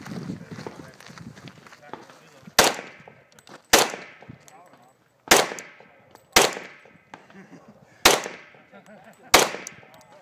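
Pistol shots ring out during an IDPA classifier stage at a shooting range, six sharp reports in an irregular rhythm with short pauses between them, loud and close, with faint movement and background noise in the gaps.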